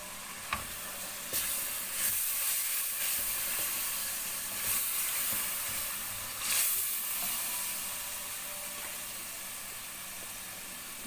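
Whole-masala base for sabut masoor daal sizzling steadily in a pan, with a bright continuous hiss and a few soft stirring scrapes, close and alone without voices.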